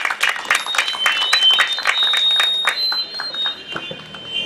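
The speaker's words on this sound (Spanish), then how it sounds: "Un aplauso para él" Applause from a crowd at an agricultural fair in Pataz province, a steady patter of many hands clapping for several seconds, with a few brighter individual claps standing out.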